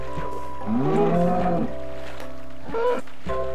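A Minecraft cow lets out a drawn-out low moo, followed by a second shorter moo about two seconds later, both fairly close and clear with no talk over them.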